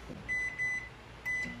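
A microwave oven beeps three times after heating, short clear tones close by, with the first two evenly spaced and the third after a longer pause.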